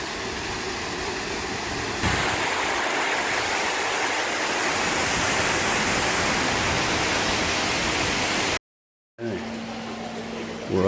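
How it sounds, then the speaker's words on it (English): Rushing waterfalls at the Grove Park Inn roar in a steady, loud broadband wash, seemingly heard up close from a corridor beneath the falls, with a brief dropout near the end. "We're up under the waterfalls now."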